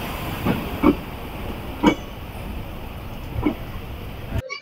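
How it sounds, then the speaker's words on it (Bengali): The Teesta Torsa Express pulls out of Sealdah station, with a rumbling, hissing background, a few loud knocks and clanks, and a rhythmic rolling of wheels at close range. "একদম রাইট টাইমে কিন্তু ট্রেন ছেড়ে দিল।"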